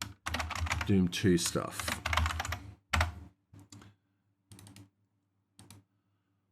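Computer keyboard typing in rapid clicking runs while someone talks over it, then a few sparse keystrokes once the talking stops.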